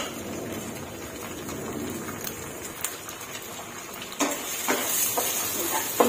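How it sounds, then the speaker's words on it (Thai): Eggs frying in a hot pan for Thai shrimp fried rice, a steady low crackle and sizzle with sharper spatters and scraping clatter toward the end, fairly close and moderate in level. "ก็เลยจะผัดไข่ก่อนค่ะ"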